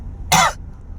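A single short, sharp cough, close by, standing out against quiet background hum.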